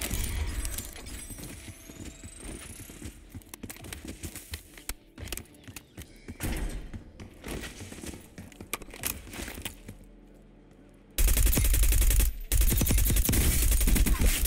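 Rapid bursts of AK rifle fire in the Warzone video game, with loud, dense crackling volleys throughout and an even louder, harsher stretch of fire near the end.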